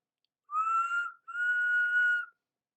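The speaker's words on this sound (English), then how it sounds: "a familiar whistle sounded in the distance" A steam locomotive whistle sounds twice in the distance, two clear sustained tones, the second longer than the first, alone against silence.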